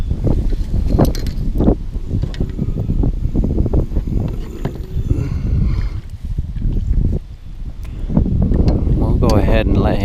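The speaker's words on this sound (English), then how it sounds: "It's hard to do anything with all the wind." Strong wind buffets the microphone while fishing for crappie and bass on an Iowa lake, a loud steady rumble with gusts, under someone talking.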